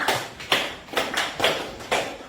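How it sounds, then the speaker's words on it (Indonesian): Classroom students clapping together for the class, five fairly even bursts of group claps about half a second apart, moderately soft and slightly roomy. "sekali tepuk tangan untuk Anda semuanya"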